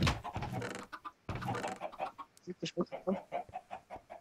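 Chickens cluck repeatedly in the Minecraft Skyblock video game, a steady run of short, close calls that follows a burst of louder noise.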